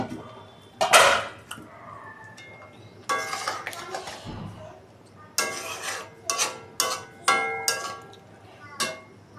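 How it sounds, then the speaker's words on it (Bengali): Bengali curry scraped and spooned from a wok into a steel bowl, with a series of sharp metallic clinks and scrapes in an irregular rhythm, fairly close and loud, with someone talking now and then. "স্টিলের বাটিতে শিফট করে দেব।"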